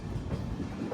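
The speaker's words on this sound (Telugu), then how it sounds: "ఎంత బండి? గూడ్స్ బండి." Train wagons rumble past at close range, a goods train hauled by multiple locomotives, with a steady broadband roar and faint clickety-clack through the whole second.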